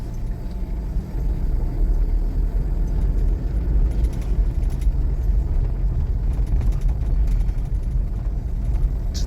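A car creeps slowly along an unpaved stretch of road that has not yet been cemented, giving a steady, close low rumble and bumping with no talk over it.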